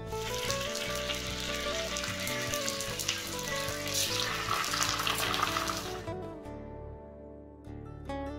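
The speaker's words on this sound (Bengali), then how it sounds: "3টে করে পাটিসাপটা এখানে আমি ভেজে নেব।" Patishapta pancakes fry in hot ghee with a loud, steady sizzle and crackle that runs for about six seconds, then cuts off abruptly, leaving only a faint background hum.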